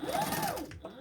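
A sewing machine runs a quick burst of top stitching on a zip-around travel wallet, a soft rapid mechanical whir and needle patter lasting under a second, quiet and close.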